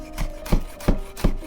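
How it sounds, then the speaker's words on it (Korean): A knife chops through scallion whites and a seeded half red chili pepper on a wooden cutting board, with four evenly spaced, crisp chopping strokes. "무치기 전에 쪽파 흰 부분과 씨를 뺀 홍고추 반쪽을 썰어줄게요"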